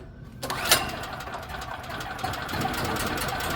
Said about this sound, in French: On va la repartir une dernière fois.